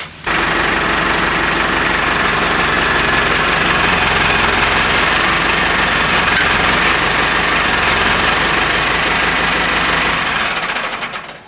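An old New Holland 472 haybine mower conditioner runs continuously at close range in tall grass, a loud steady engine and machinery drone with rattling vibration holding level before fading out at the very end.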